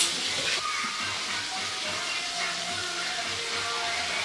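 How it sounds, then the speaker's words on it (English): Butter burns in a hot cooking pan beside a steak being cooked, giving a steady broad hiss of sizzling that runs throughout, close and fairly loud. "Oh, my butter burning."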